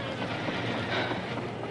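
A train running on rails, heard from inside as a steady, loud rumbling roar with faint rolling clatter and no talking.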